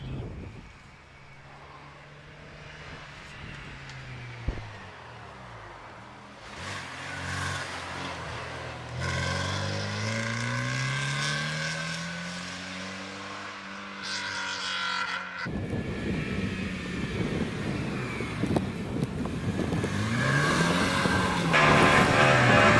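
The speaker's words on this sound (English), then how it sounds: "So as the Peugeot heads away" Peugeot 106 GTI race car at the Prescott hillclimb, its engine revving hard through rising and falling gear changes as it drives away into the distance, loud at first then fading amid ambient noise.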